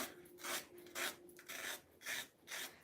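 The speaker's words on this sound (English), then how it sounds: "you just smooth it like this, scrape it a bit." A knife scrapes the skin of a plantain in about five rhythmic, raspy strokes, close but fairly faint.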